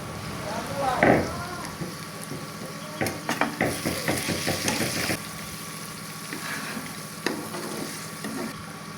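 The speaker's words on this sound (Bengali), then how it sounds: "ঢাকনা উঠিয়ে ভালো করে নেড়ে চেড়ে নিচ্ছে এর ভিতরে দিয়ে দিচ্ছে মাংসগুলো" Meat being stirred in a lidded cooking pot, with scraping and clattering pulses against the pot and a low sizzle underneath, busiest in the middle and trailing off.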